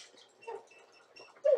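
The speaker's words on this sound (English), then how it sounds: "The dog wants out." A dog indoors whimpers and whines softly in short, thin bursts, wanting to be let out, ending with a slightly louder whine; faint and close, with no talk over it.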